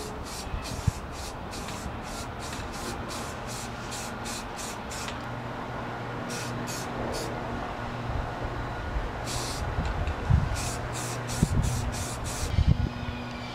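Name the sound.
spraying primer sealer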